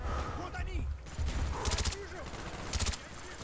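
Gunfire in Call of Duty: Black Ops during online multiplayer: rapid bursts of shots crackle in quick clusters, fairly close, with game voices and effects overlapping throughout.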